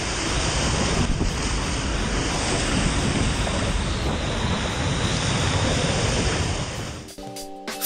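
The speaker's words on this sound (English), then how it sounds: "created what is considered to be the world's best artificial wave pool" Loud, continuous rushing of breaking surf in an artificial wave pool, with heavy wind buffeting the microphone, ending abruptly in a brief electronic tone.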